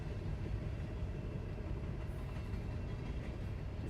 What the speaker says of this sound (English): Just sitting here watching this train go by.